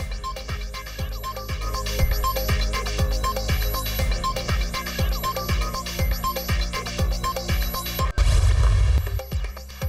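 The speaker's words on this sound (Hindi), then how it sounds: "आतिशबाजी का शानदार मुजाहरा" Fireworks at an election victory celebration outside a party office, a rapid run of sharp booming bangs in steady succession, loud and close, ending in a heavier burst of crackling noise.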